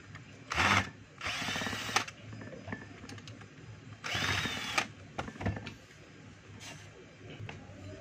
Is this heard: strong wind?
no